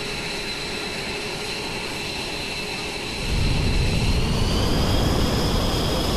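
A steady large jet plane engine roar in a VRChat game hums along, then surges louder and deeper about halfway through and holds there.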